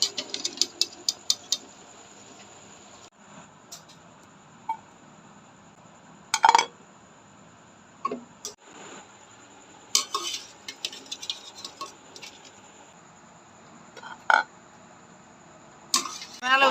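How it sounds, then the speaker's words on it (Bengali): Boiled potatoes are mashed in a pot with scattered clinks and knocks of a utensil against metal, bursts spread irregularly across a quiet room, close and fairly crisp. "আলুগুলা ম্যাশ করে নিব।"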